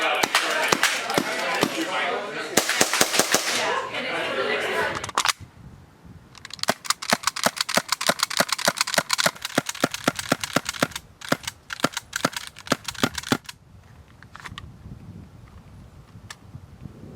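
Novritsch SSX-23 airsoft pistol fitted with a styrofoam suppressor, firing quick bursts of sharp cracking shots, with rapid strings of close, snappy pops across several volleys and a stretch of voice at the start.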